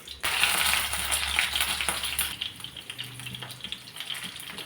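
Onion, potato and red chilli dropped into hot coconut oil for a Spanish omelette, giving a loud hissing fry that starts abruptly and stays steady, easing slightly toward the end, with no talking.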